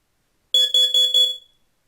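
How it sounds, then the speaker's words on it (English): A home fire safety alarm lets out a short pulsing beep, four quick electronic pulses in a row, loud and clear in an otherwise silent room. "So a little pulsing beep"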